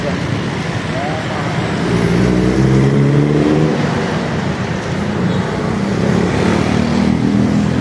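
A fuel-injected Yamaha Sniper 150 motorcycle at a shop in Iligan City, its engine running steadily with a low, even hum that swells slightly midway, under a wash of surrounding road noise.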